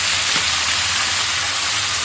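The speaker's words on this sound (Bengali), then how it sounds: "তো একই সাথে পেঁয়াজ তেল সব ছেড়ে দিলাম।" Sliced onion and oil hit a pan where a fish head has just been fried. A loud, even, close hiss of frying holds steady for the short stretch, with nothing else over it.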